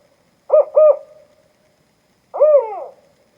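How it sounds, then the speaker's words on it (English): Northern spotted owl giving its four-note hoot call: two quick hoots, a pause, then a longer wavering pair of notes, clear and fairly close against a silent background. "So that's just a basic 4-note call."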